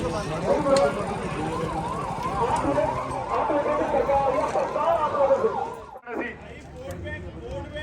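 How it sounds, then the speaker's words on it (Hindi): An ambulance siren wails in rising and falling sweeps over busy street noise and voices, then cuts off abruptly near the end. "तो यहाँ एम्बुलेंस आई"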